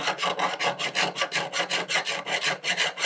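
A flat metal file rasps back and forth across a silver pendant in a steady, rhythmic series of close, scratchy strokes, about four per second, with no talking.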